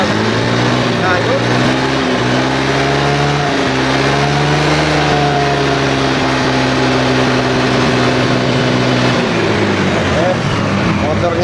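A Honda Beat ESP scooter engine, smoking after running on fake oil, is revved at a roadside, its buzzing note rising and falling in pitch over a continuous idle, close and loud, with someone talking over it.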